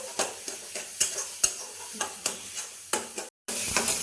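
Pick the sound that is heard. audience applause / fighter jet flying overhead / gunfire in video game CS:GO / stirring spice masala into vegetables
stirring spice masala into vegetables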